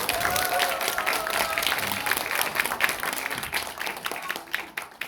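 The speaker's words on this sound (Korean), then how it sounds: "우리 김용민 의원님께 큰 박수 한번 다시 부탁드립니다." An audience applauds lawmaker Kim Yong-min at a youth committee launch meeting, a dense continuous clapping that carries on for several seconds and slowly thins toward the end, with some crowd noise mixed in.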